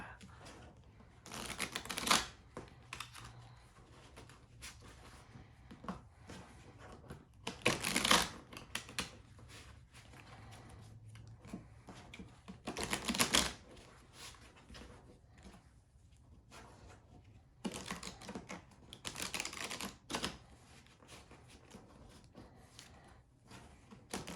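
A deck of cards from a pro wrestling promoter card game is shuffled by hand: several sharp riffling bursts a few seconds apart, with quieter handling and tapping between them.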